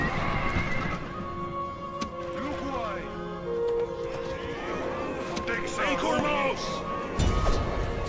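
Cavalry horses neighing and whinnying in Rome Total War, several overlapping calls over a backdrop of clip-clopping hooves and distant battle noise, with a loud thump near the end.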